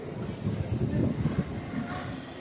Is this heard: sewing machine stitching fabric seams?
no